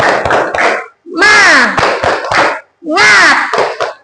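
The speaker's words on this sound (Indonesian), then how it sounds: "Tepuk semangat." A group of children doing the tepuk semangat spirit clap in class, sharp rhythmic clap bursts alternating with loud chanted voices in two repeated rounds.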